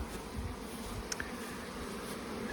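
Honeybees buzz as they are blown out of a queenless hive, a dense, steady droning swarm hum that carries evenly throughout.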